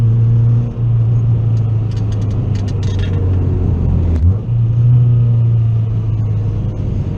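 A budget turbocharged car engine, fitted with an eBay turbo, holds at about half throttle in a steady, deep rumble close by, with two brief dips before the drone settles back in.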